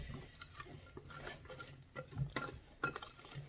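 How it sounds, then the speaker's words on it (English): A whisk stirring banana nut muffin batter in a bowl, quiet, irregular scraping and light clinking taps in a close, fast rhythm. "I'm going to go ahead and just whisk that around really good"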